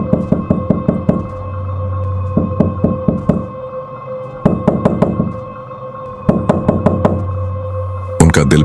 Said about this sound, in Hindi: तभी दरवाजे पर दस्तक हुई, हल्की, धीमी, लेकिन लगातार दस्तक।